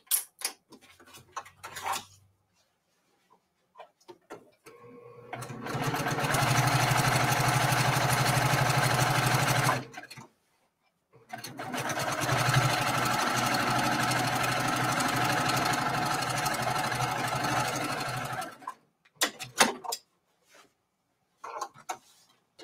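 Embroidery machine stitching a Kimberbell mini-quilt, running in two sustained steady buzzing bursts of several seconds each, separated by a short pause, with brief clicks and handling sounds before and after.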